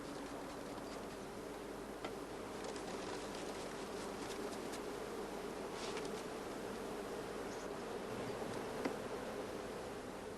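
Honey bees hum in a dense, steady buzz as they are brushed off hive frames taken from strong colonies, faint and continuous with occasional soft ticks, no talk.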